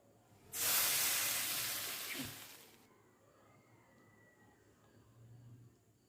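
Water poured into a hot pan of frying eggplant pieces for a banana stem dish sets off a sudden loud hiss lasting about two seconds, which then settles into a faint, low simmering sizzle.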